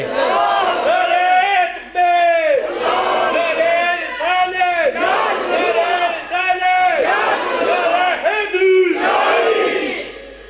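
A large crowd chants religious slogans in loud, rhythmic unison, with surging repeated cries at a devotional gathering, steady and close throughout.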